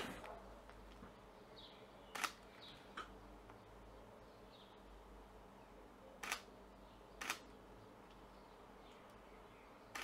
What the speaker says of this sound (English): Let's take a few pictures.